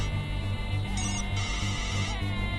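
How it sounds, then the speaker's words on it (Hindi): A phone rings with a repeating electronic ringtone, playing steadily over a low background hum at moderate volume with no voices. "देखिए मैडम, फोन बज रहा है, कम से कम फोन तो उठाइए."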